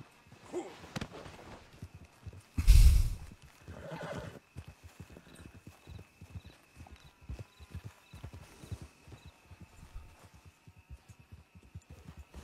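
Horses clip-clopping along at a steady pace with several loud whinnies standing out, the hoofbeats continuing alone in an otherwise quiet scene.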